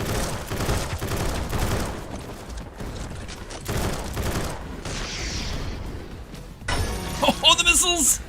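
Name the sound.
missiles exploding in the video game Skillshot City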